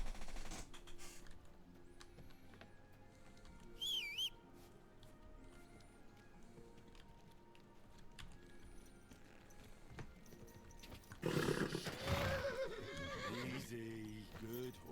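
A horse in the video game Kingdom Come: Deliverance 2 whinnies sharply once, then later neighs again loudly amid clattering hooves and game sound effects, with someone speaking in between.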